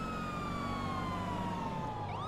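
An ambulance siren in GTA 5 wails continuously with a sliding, slowly falling tone, fairly close and steady over road and engine rumble, then changes pitch abruptly near the end.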